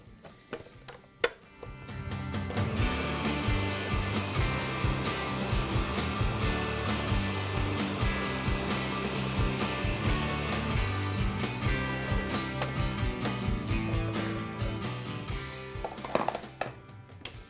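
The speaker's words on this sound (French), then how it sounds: "en ajoutant un petit peu de lait et de crème dans mon broyeur, bien, ça va nettoyer en partie le bol du robot" A food processor whirs steadily as it blends a little milk and cream in its bowl, a loud continuous motor drone with rattling tones that starts abruptly and cuts off near the end.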